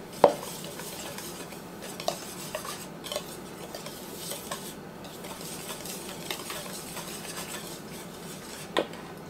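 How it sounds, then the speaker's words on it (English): A whisk stirs pudding mix into cake mix in a bowl, with soft continuous swishing and occasional clinks of metal against the bowl, close up and without talk. "I'm just going to kind of whisk that around, get that pudding all mixed in with my cake mix."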